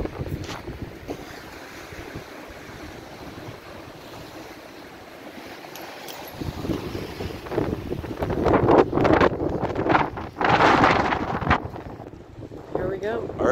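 Wind gusting at a glacier beside cold water, a rough, buffeting rush that swells louder midway, with muffled voices and splashy bursts mixed in.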